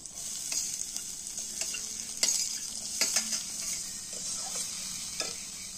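Chopped onion sizzles steadily in a hot pan, with scattered scrapes and taps of a spoon stirring it, close and fairly quiet.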